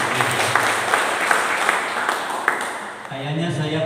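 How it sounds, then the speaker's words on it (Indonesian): A church congregation claps during a sermon, a steady spread of applause with a few distinct sharp claps, then it fades as a voice begins speaking near the end. "boleh berikan tepuk tangan"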